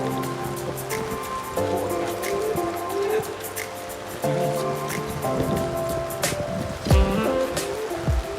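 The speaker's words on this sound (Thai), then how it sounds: "ตอนนี้ฝน ตกแรงสุด ๆ เลยนะครับ" Heavy rain pours down steadily, a dense hiss of drops on surfaces with intermittent louder splashes and knocks, while tonal background sounds shift in and out and a person talks over it.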